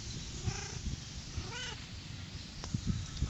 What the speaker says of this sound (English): look at this needy cat